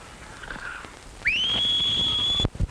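A single clear, high whistle rises and holds steady for about a second, then cuts off abruptly, with faint room noise around it.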